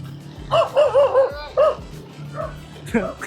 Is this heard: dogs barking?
yes